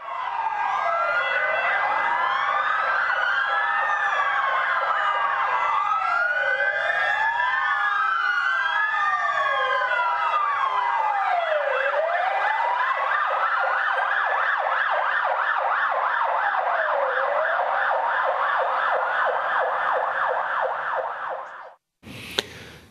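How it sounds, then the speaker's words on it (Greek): Several EKAB ambulances on a protest march through central Patras sound their sirens together, overlapping loud wailing tones that rise and fall continuously for over twenty seconds before cutting off abruptly. "τα ασθενοφόρα του ΕΚΑΒ πραγματοποίησαν πορεία διαμαρτυρία στο κέντρο της Πάτρας"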